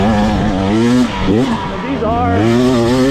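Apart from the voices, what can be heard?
GasGas enduro motorcycle engine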